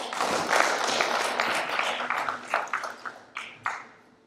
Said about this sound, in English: Some more claps, please.